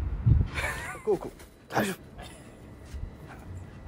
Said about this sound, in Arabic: سمعت الكلب؟